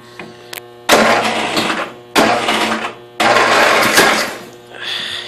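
A 1992 Yard King lawn tractor engine cranks in three separate bursts of loud, rattling churning without catching, with short gaps between attempts and a faint click at the start.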